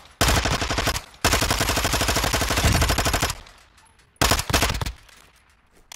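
Rapid automatic gunfire from a gun in the Warzone 2 video game, two long sustained bursts of fast, loud shots followed by a brief pause and a shorter burst.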